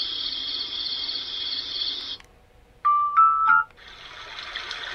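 A star projector plays a steady hiss of running water, which cuts off. Short electronic tones follow, then a softer sustained cricket-like chirring begins.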